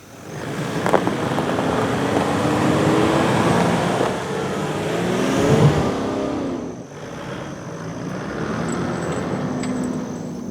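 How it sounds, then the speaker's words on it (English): A 4WD revs hard in low range to climb out onto Maxtrax recovery boards in Simpson Desert sand, a loud sustained engine roar that swells mid-clip, dips briefly, then settles to a steadier drone. "Put it in low range first. Give it a bit of right foot."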